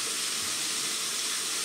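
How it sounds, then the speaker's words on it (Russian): Meat frying in a pan for an egg dish with onion, cheese and tomatoes, a steady bright sizzling hiss, close and even throughout with no talk. "Мясо жарится."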